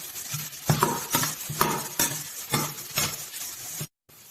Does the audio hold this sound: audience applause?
no